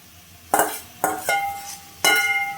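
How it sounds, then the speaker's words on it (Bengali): Jackfruit stir-fried in a spiced pan: three sharp metallic clinks of a spatula against the pan, with scraping between strikes, close and distinct. "এঁচড়টা দিয়ে আবার ভালোভাবে কষিয়ে নেব।"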